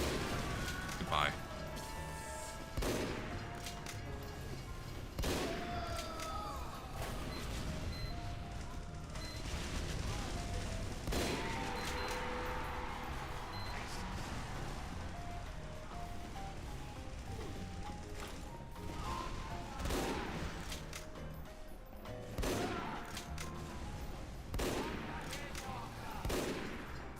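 Repeated SMG bursts in Team Fortress 2 on the Goldrush mod, with rapid gunfire and game clatter mixed under steady talk throughout.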